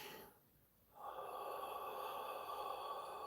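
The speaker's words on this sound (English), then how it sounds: "you actually do the sound underneath your breath. So I inhale." During a qigong breathing exercise, a quiet breath is drawn in sharply through the nose, then becomes a steady airy hiss that continues faint and close.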